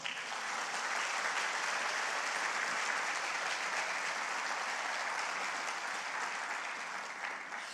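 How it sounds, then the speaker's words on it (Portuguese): A church congregation at a family worship service applauds steadily for about eight seconds, a dense, even wash of clapping that stays loud throughout and tapers slightly at the end, with no talking over it. "Você pode aplaudir o Senhor?"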